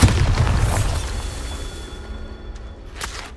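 A Bombarda spell explodes with a heavy boom in Hogwarts Legacy, loudest at the very start, then rolling off into a fading rumble with a few faint pops after.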